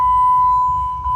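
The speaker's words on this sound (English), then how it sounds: "It just beeps constantly." A steady high-pitched electronic beep holds almost continuously, briefly dipping near the end before resuming, close and fairly loud.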